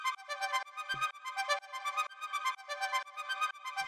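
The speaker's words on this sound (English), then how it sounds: "So what this is it's this little synth I made with analog" A melodic techno synth arpeggio built with Analog plays alone, a steady pulsing run of bright plucked notes in repeating rhythmic groups with a soft low thump now and then.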